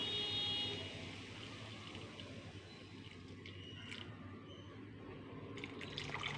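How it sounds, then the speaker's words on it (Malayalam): Squeezed coconut milk pours into a simmering curry of long beans and ash gourd, a steady soft liquid wash with faint drips that runs through the whole moment with no talk. "തേങ്ങാപ്പാൽ നമുക്കിതിലേക്ക് ഒഴിക്കാം."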